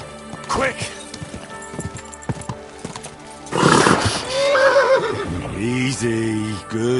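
A horse in the medieval game Kingdom Come Deliverance 2 snorts and gives a loud, drawn-out neigh, after a run of sharp hoof clops, close and prominent.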